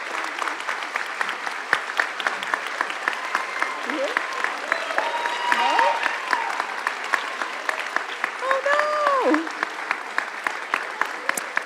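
An audience at a spring convocation claps warmly and steadily for the whole stretch after a teaching award is announced, with a few voices talking through the applause.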